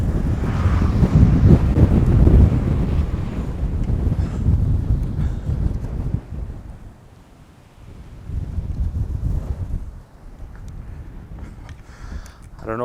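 Strong gusting wind buffets an outdoor microphone during a lightning photography session, a loud rumbling roar that surges and eases, dropping briefly before swelling again.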